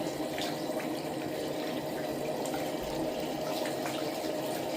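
Running water rinses a Maine Coon cat during a bath, a steady close rush of flowing water that continues without a break and with no talking.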